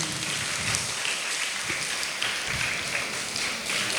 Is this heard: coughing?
no